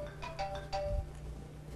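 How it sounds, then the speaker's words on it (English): A timer alarm chimes during a talk on the human genome, a few bright ringtone-like tones pulsing in quick succession, fairly faint over a steady room hum. "That is not a phone call. That is my timer."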